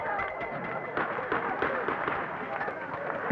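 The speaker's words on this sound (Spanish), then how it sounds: "Escuchan disparos de gases lacrimógenos." Tear gas canisters fired by police at rock-throwing students during street clashes, several muffled pops and thumps scattered through a noisy crowd din.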